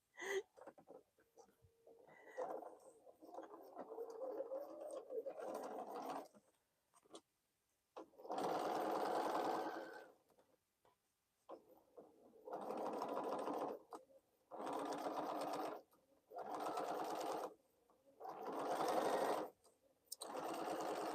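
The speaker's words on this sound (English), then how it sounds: "I am so scared to sew around the bowl now." Home sewing machine stitching around a fabric bowl cozy in short bursts of steady, fast whirring, each lasting a second or two and separated by quiet pauses, close and clear, with soft speech in the opening seconds.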